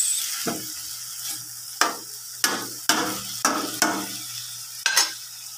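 Cabbage stir-fried with oyster sauce in a hot pan: about six sharp spatula strokes scrape through the food at a steady pace over a constant close sizzle, with no talking.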